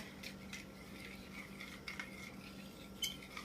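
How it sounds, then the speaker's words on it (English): A spoon stirs a liquid yeast mixture for doughnuts in a bowl, soft repeated scraping and light clinks against the sides, faint and close over a low steady hum. "You want to make this a nice mixture with your spoon."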